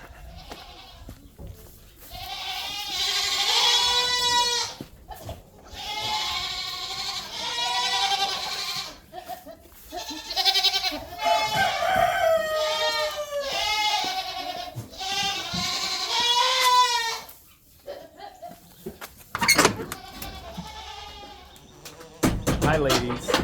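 La Mancha and Nigerian dwarf goats bleat close by on a farm, a near-continuous run of wavering calls of varying loudness, with a short clatter near the end.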